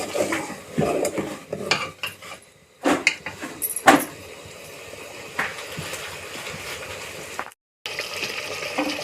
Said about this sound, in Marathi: या मस्त मसाला आपला उकळू लागला